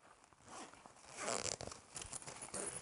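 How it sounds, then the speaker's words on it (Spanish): A zipper pulled open on a pencil case, a close raspy ripping zip in several short bursts over quiet room noise, with no talking. "tiene otra cremallera con una cremallera más pequeña por medio"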